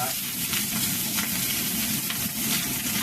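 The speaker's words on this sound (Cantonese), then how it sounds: "一落完油就喳喳聲㗎啦。" Steady, loud sizzling of beef tongue sausage frying in a little hot oil, a continuous crackling hiss throughout with no talking.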